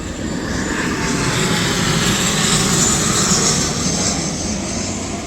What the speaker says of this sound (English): got a little airplane flying over